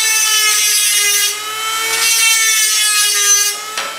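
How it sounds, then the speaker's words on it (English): A large bandsaw blade is sharpened, giving a continuous loud, close grinding tone with a steady ringing pitch that shifts slightly and holds for several seconds. "I begin by sharpening the blade that Matthias gave me."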